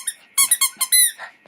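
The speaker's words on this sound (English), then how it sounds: "so sorry if you hear squeaking in the background" A dog's plush shark toy squeaks close up in a quick burst of about six sharp, high squeals, each short and bright, with a quiet trailing squeak at the end.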